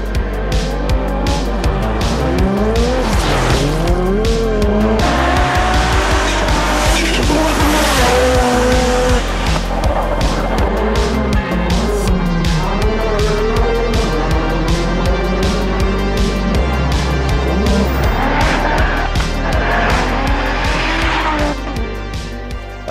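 A 1984 Ferrari 288 GTO with a twin-turbo 3-litre V8 drives hard, its loud engine rising and falling through gear changes with tire squeal, continuous and close for the full stretch with no talk.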